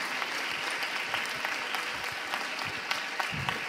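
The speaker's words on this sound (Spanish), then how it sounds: "le quiero pedir otro aplauso para él." Applause from the audience at the closing ceremony of the AMGBA 2017 congress, a steady, even wash of clapping lasting several seconds with a few sharper claps standing out near the end.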